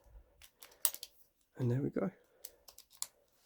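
A repaired snapped key pushed into a lock and turned, giving a few sharp metallic clicks and scrapes, close and quiet, with a short spoken phrase in the middle.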